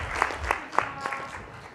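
Brief audience applause in a room, a thin scatter of claps with a few distinct sharp hits, moderately faint and fading quickly.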